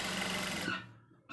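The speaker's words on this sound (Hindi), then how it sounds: "और फिर यहाँ पर हमारी सिलाई होगी" A sewing machine stitches a pleat into a kameez, running as a fast, steady whir up close for under a second before stopping, then a faint quiet stretch.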